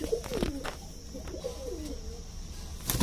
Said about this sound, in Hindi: ये जी गोल्डन कबूतर है